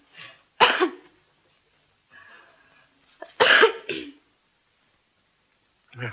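During a medical examination in a period drama, a woman coughs again on request: a few separate close, sharp coughs spread over several seconds with quiet breathing between.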